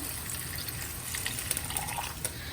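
Water poured into a pan of chicken gravy in a home kitchen, a steady close splashing gush that runs without a break and no voices.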